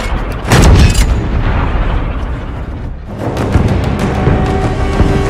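Loud gunfire signal shots ring out in a Korean War film scene: a heavy blast near the start followed by sustained booming rumble and a second strong report, echoing and dense throughout.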